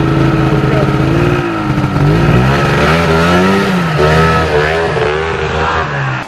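A snowmobile engine stuck in snow on a mountain revs hard and steadily, its pitch wavering up and down for several seconds, loud and close, running below full performance, with people talking over it.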